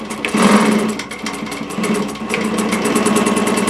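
A JUKI DNU-1542 industrial sewing machine stitching up close, a steady rapid mechanical whir with a fine rhythmic needle clatter running loud and continuously.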